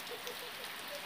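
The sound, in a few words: rain falling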